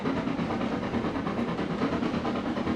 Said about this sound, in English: The train accelerates well.